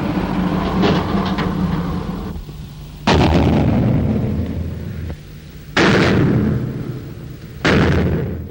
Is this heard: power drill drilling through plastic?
no